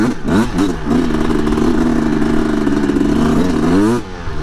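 A two-stroke dirt bike engine is loud and close, revving and then dropping through downshifts under engine braking. Its buzzing pitch wavers and falls before the engine settles briefly at the end.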